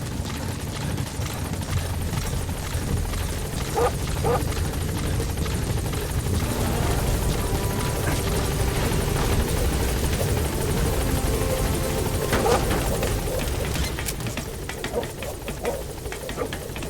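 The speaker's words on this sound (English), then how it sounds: "Support helicopter has arrived." Support helicopter arriving at a landing zone in the video game Metal Gear Solid V, a loud continuous rotor thrum and engine drone that holds steady throughout, with faint brief clanks on top and no speech.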